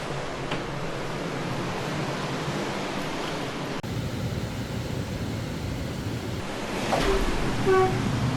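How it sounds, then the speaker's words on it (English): Atlantic Ocean waves on the coast at Essaouira, Morocco, heard from a riad room in the old medina: a steady broadband wash of surf that swells slightly louder near the end, with no talking. "we could hear the waves of the Atlantic Ocean."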